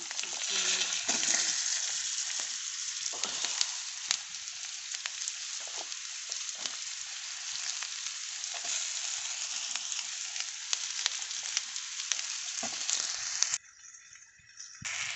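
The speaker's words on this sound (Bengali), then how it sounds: "ঝিঙে আলু ভাজা হয়ে গেছে মোটামুটি" Ridge gourd and potato frying in a pan with turmeric, a continuous close hissing sizzle with clinks of stirring, cutting to a quieter sizzle near the end.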